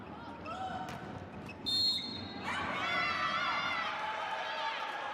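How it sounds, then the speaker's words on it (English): A referee's whistle blows for a fault at a CEV Champions League women's volleyball match between Conegliano and Chemik Police, a short shrill blast rising over crowd noise and cheering in an indoor arena. "the whistle's blown again for a fault"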